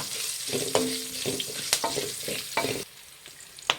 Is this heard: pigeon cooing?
no